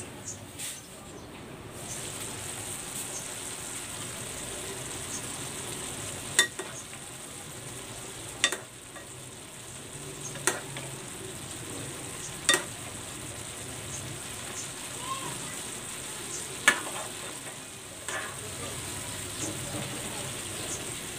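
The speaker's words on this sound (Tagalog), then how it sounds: "Takpan natin and then i-simmer natin ito for 10 minutes." Stuffed ampalaya simmers in a covered pan, giving a quiet, steady bubbling sizzle broken by occasional sharp clicks and taps spaced a few seconds apart.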